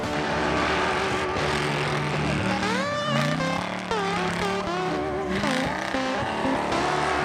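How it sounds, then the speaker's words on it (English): Drifting car at the Freedom Factory track, its engine note rising and falling in loud continuous revving sweeps with tyre noise, held steady and close for the whole stretch. "Now we're going to watch him drifting, I think."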